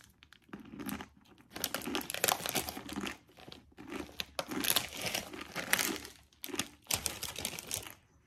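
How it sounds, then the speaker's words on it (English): Raw Korean ramen noodle block crinkled and crumbled inside its plastic package, a close, crackly series of crunching bursts with brief pauses between, no talking. "I don't want to crumble it up too much"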